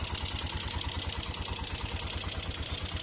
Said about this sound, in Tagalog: maingay talaga ang makina nito